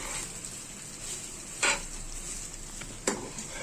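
Egg chilli sizzles quietly in a pan after a pinch of black pepper powder goes in, a soft, even frying hiss broken by two brief scrapes of stirring.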